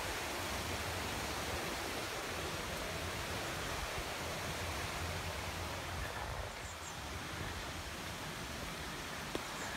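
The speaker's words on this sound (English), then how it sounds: "the brook down there." Wyming Brook in the Rivelin Valley flows steadily, giving a continuous broadband rush of water that holds the same level throughout with no breaks.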